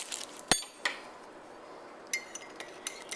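A spoon stirs a white chocolate truffle into a mug of coffee, giving a few sharp ceramic clinks against the mug separated by quiet pauses, close and fairly faint, with no talk.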